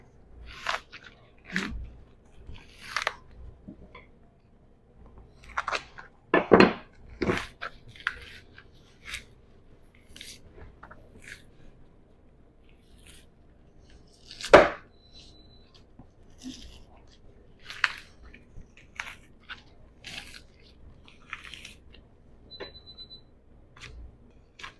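A knife works the fat cap free from a hanging beef rib, giving scattered sharp tearing and crackling snaps, some louder, spread over quiet stretches of handling noise.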